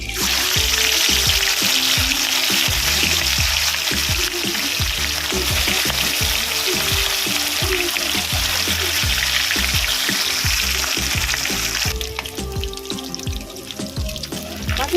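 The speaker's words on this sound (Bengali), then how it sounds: "তেলটা গরম হয়ে গেছে আমি মাছগুলো দিয়ে দেবো" Fish pieces fry in hot oil in a wok, a loud, steady crackling sizzle running throughout with clattering handling noises, the sizzle thinning somewhat near the end.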